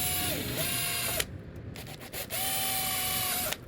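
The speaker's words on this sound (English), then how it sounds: "now all we got to do is drill our other 4 holes, which we're doing right now" A power drill whirs in two bursts while drilling holes to hang a screen door, its motor pitch dipping under load then steadying, separated by a short pause of quieter rattling.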